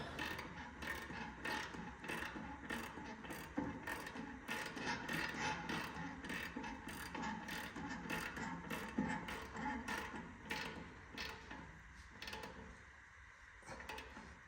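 Metallic ratcheting on a cabover truck frame as a bolt is tightened, with rapid, steady clicking and mechanical clatter running continuously at close range, easing slightly near the end.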